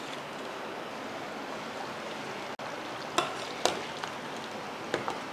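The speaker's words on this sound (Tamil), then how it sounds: "ஸ்டவ் ஆன் பண்ணி நல்லா கொதிக்க விடலாம்" Steady bubbling and simmering of a meat curry cooking in a pot on a stove, close and continuous, with a few light clinks near the end.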